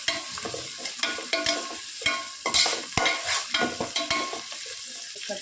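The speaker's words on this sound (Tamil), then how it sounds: "கருவேப்பிலை, கொஞ்சம் புதினா, இந்த மல்லித்தலை போட்டு நல்லா கலரிடலாம்" A ladle stirs curry leaves, mint and coriander into sizzling mushroom biryani masala, repeated close scraping strokes in an uneven rhythm over steady frying.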